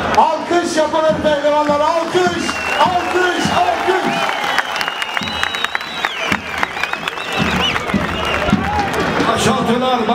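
A crowd applauds at a Dalyan oil wrestling match in Turkey, loud and sustained clapping mixed with crowd babble, voices and tonal sounds throughout.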